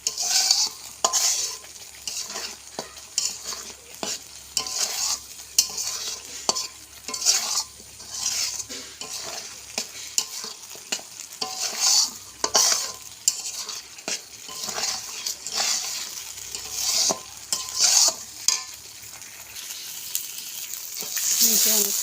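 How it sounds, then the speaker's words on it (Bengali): Dried fish chutney frying in a pan while a utensil repeatedly scrapes and stirs it, giving close, loud rhythmic clanks and scrapes over a constant sizzle. "এভাবে কিছু নাড়াচাড়া করতে করতে গোটা রান্নাটাই করতে হবে"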